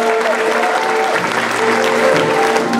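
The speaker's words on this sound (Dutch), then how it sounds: "ook een applaus voor uzelf" A concert audience at a harmonie band's Christmas concert in Ridderkerk claps in loud, sustained applause with a steady, even roar and a faint sustained tone held underneath.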